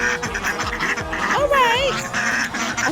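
Several ducks quack insistently for food around a molting backyard flock, loud nasal calls repeating close by over a constant background with brief talk mixed in.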